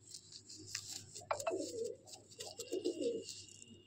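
Madrasi pigeons in a loft give a few soft, low coos in short bursts over a quiet background, close by and without speech.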